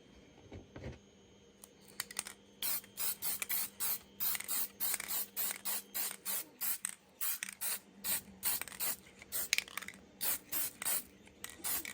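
Dull coat finish sprays from an aerosol can onto a Jedi training remote replica prop in a rapid series of short, close hissing bursts with brief pauses between them, punctuated by faint clicks of the nozzle.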